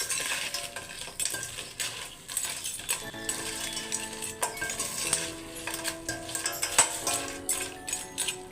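Crab sukka is stirred in a pan: soft, uneven scraping and clinking of a spoon against metal, with light sizzling underneath and no talk.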